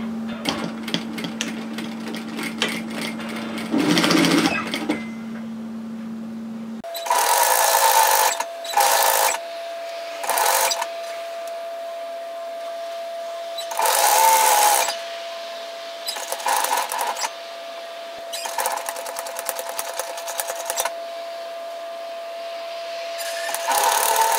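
Sewing machine stitching a scalloped edge seam on a shacket, short repeated bursts of quick needle clatter separated by pauses, over a steady background hum.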